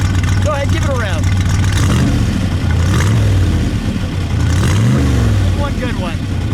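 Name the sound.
1965 Shelby AC Cobra 289 V8 engine revving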